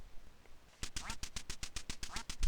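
In the Duck Hunt video game, a duck quacks in a fast, even string of about a dozen sharp, loud electronic quacks after a brief quiet start.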